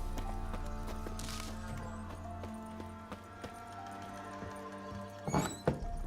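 Hooves of Geralt's horse Roach clop at a steady, unhurried pace in The Witcher 3, faint and close, with a few louder thuds and shuffles near the end over a soft game ambience.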